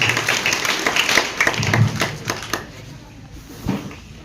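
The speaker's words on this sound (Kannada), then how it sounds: "ಎಲ್ಲರನ್ನು ಹೃದಯ ತುಂಬಿ ಸ್ವಾಗತಿಸಿದಂತ ನಮ್ಮ ಶಾಲೆಯ ಮುಖ್ಯೋಪಾಧ್ಯಾಯರಾದಂಥ ಶ್ರೀ RK ಮುನ್ನೋಳಿ ಸರ್ಗೆ ಒಂದು ದೊಡ್ಡ ಚಪ್ಪಾಳೆ ಮುಖಾಂತರ ಅಭಿನಂದನೆಯನ್ನು ಸಲ್ಲಿಸೋಣ" Audience clapping at a school event welcoming the headmaster, loud dense claps that thin out and fade over a few seconds, leaving only a few scattered taps.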